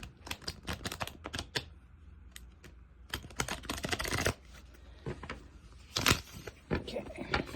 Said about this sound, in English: shuffle this for a minute.